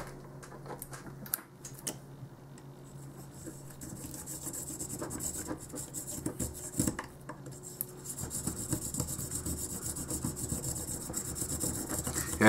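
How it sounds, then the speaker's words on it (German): Close, steady rasping and grinding as a drill bit files against a carbon plate on an Ansmann Virus ST RC car axle, continuing in bursts with a few sharp knocks. "jetzt muss ich hier leider mit dem Bohrer ein bisschen feilen"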